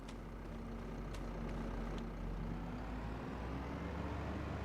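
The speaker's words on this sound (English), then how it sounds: "So we'll go ahead and hop back in the tractor." A farm tractor's engine drones steadily in the Farming Simulator 25 video game, driving down a road on the Polanki map, a constant low rumble with no talk over it.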